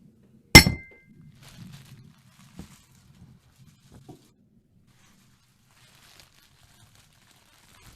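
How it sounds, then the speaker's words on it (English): A drinking glass clinking in a toast in an old-time radio drama, one sharp bright clink near the start followed by faint rustling and a few soft knocks as it is set down, then quiet. "As Stevens placed his glass down"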